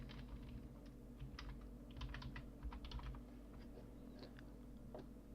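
Typing on a computer keyboard, quiet clusters of quick clicking keystrokes in an irregular rhythm over faint background hum, no talk.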